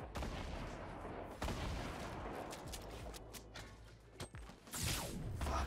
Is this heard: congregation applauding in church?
no